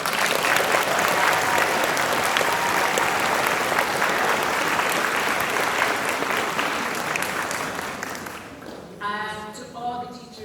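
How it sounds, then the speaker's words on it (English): Students give their teaching staff a round of applause at a school gathering, loud sustained clapping from a crowd that fades near the end as a voice begins speaking. "your students should just give you a round of applause."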